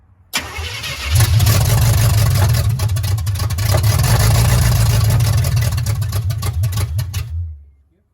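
An old Chevrolet C10 truck with a carburetor engine cranks, catches and runs with a loud, rough, rumbling idle for about six seconds before shutting off, close by and with no talking.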